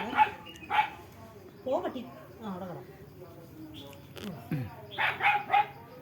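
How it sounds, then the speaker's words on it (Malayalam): Puppies at home yip and bark in short, sharp bursts, loud and close, near the start and again toward the end, while people talk through the middle. "പട്ടിക്കുഞ്ഞുങ്ങൾ ഭയങ്കര ബഹളമാട്ടോ"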